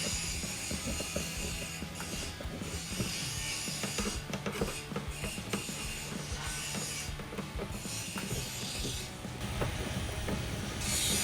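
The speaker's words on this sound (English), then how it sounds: "I want to be careful not to over tighten these screws. I want to tighten them down till they're snug." Ratchet driving down screws on an S&B cold air intake for a 2018-2022 EcoBoost Ford F-150, with steady close clicking of the pawl over a continuous background noise floor.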